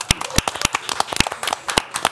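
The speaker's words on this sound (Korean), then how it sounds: "박수!" A small group claps together in a brief, ragged burst of sharp, irregular hand claps lasting about two seconds, close and fairly loud.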